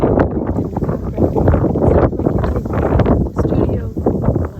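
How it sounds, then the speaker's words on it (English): Strong wind blows across open Orkney island landscape, a loud, continuous gusty rush with buffeting microphone noise that rises and falls throughout. "you can hear the wind in the background."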